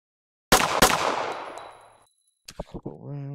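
Two sharp, loud gunshots crack in the VR game Anarchy SWAT VR, each trailing a long echoing decay, followed by a few quick metallic clicks and a brief voice.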